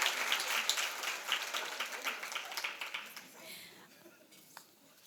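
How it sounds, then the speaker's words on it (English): Many hands clap at a business breakfast, a crowd's applause that starts full and close, then gradually thins out and fades over a few seconds. "Another round of applause."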